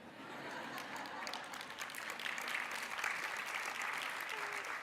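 Conference audience applauding, men among them, a dense sustained clapping that swells slightly midway and carries on throughout.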